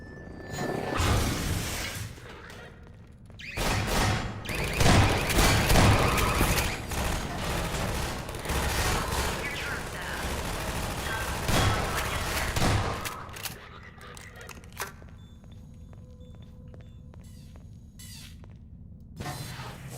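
Turrets in Half-Life 2 fire rapid bursts of automatic gunfire, with dense crackling volleys coming in long stretches and broken by short pauses, then dropping to quieter mechanical sounds and scattered later shots.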